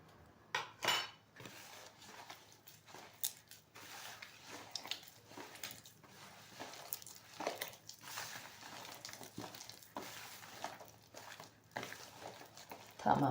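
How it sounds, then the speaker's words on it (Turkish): A spoon stirring oil and other ingredients in a bowl before flour goes in for a Turkish şekerpare dough, with faint irregular clinks and soft scraping against the bowl, quiet and close, with no talking. "Şimdi kabımın içine almış olduğum malzemelerimi unumu almadan önce bir karıştıracağım."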